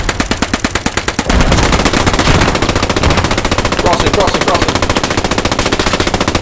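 Sustained machine gun fire lays down suppressing fire in the World War II game Post Scriptum, with rapid, loud, close bursts that run continuously throughout, and a voice briefly speaks over the shooting.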